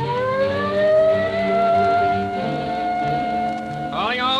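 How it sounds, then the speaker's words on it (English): A wailing police car siren from an old radio drama rises and holds a steady tone, with a second rising sweep entering near the end and a music bed underneath. "There's the police car"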